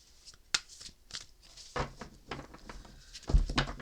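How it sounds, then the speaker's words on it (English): Tarot cards being shuffled by hand, quiet close-up riffles and soft slaps of the deck coming in irregular bursts with short pauses between them. "I'm going to try to shuffle them lengthwise, I guess."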